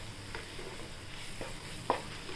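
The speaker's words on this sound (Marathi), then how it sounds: "हे ज्वारीचं पीठ आहे ते टाकूया आणि एकदम मंद आचेवर छान त्याला भाजून घ्यायचं" Sorghum flour is dry-roasted on a very low flame and stirred with a spoon, giving a faint, quiet hiss with a few soft scraping strokes and a small clink, close up.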